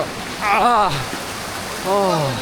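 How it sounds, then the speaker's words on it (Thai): A forest stream on a waterfall trail in a wildlife sanctuary, a steady close rush of flowing water with someone talking over it in short bursts. "แล้วเราก็ลงมาถึงจุดลำธารนะครับ"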